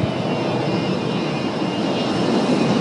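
A constant loud jet-engine roar fills the space, a steady broadband rush with a faint high whine, as heard from inside an aircraft during takeoff.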